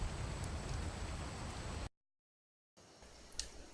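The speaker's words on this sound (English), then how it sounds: "you cannot escape the rain" Rain patters steadily on the ground in ARK Survival Evolved, even from inside a cave: a faint, continuous hiss of falling drops that cuts to silence for about a second, then returns more softly.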